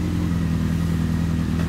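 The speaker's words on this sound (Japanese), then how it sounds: "エンジンを聞かせてください" A 2005 Honda CB1300 Super Four motorcycle with a Simpson LCI Parts exhaust rumbles loudly at close range with a steady throbbing idle, holding a constant low drone throughout.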